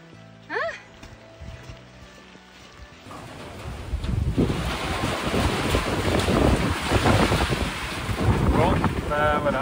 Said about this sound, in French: le vent cinglant nous envoie des rafales de sable au visage